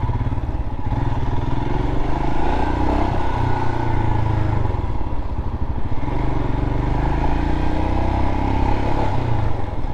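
A Royal Enfield Himalayan motorcycle engine thrums loud and close throughout a ride, with a steady rumble and some rattling clatter and wind, and no voices.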